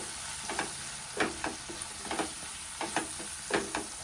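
Capsicum masala curry with turmeric being mixed in a pan: a steady soft sizzle with a series of close, irregular scraping stir strokes, no voices.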